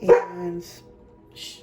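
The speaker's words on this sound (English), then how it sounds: "sorry about the dog barking in the background" Dog barking in the background indoors: one sharp bark followed by a couple of fainter, shorter yips, distant and slightly muffled, with a brief spoken word at the start.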